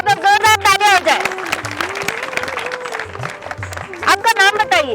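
A burst of audience clapping at a quiz session after a correct answer, filling the middle seconds over a steady low musical beat, with a voice heard before and after.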